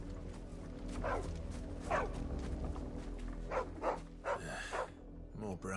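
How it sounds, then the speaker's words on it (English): A dog barks in the Final Fantasy XVI video game, several spaced barks sounding over low game ambience while a person talks at times. "Chloe is a dog."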